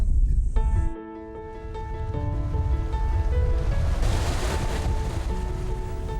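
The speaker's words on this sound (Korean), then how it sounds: "넘실대던 미역 위로 점점 물이 차오르고" Sea water swells and washes in rolling waves over seaweed beds off a remote island, a broad rushing surf with wind and a faint engine-like hum layered in, no talk.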